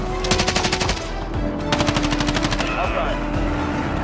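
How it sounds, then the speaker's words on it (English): Rapid automatic gunfire in a battle royale video game, bursts of quick repeated shots in several volleys, fairly close and loud, over a steady background bed. "Where are these shots coming from?"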